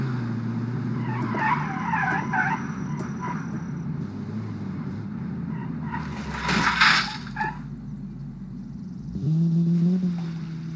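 A modern hot hatch in BeamNG Drive, its engine droning steadily while tires squeal and skid partway through, then the engine rises again near the end; no one talks.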